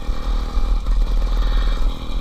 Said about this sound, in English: The engine was cold, but it felt great to once again be using dinosaurs to power me forward.